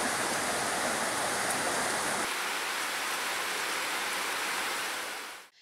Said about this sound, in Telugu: ఎండలో చిటపట చినుకులు పడుతుంటే అబ్బబ్బా ఎంత హాయి.